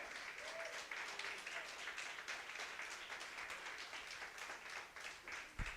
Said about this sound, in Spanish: Dele un fuerte aplauso al Rey.